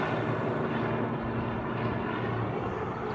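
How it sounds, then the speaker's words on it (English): United Boeing 737 MAX 9 airliner departing the reef runway in Hawaii, a steady loud jet engine roar holding evenly throughout without a break. "It's a MAX 9. It's heading off to San Francisco."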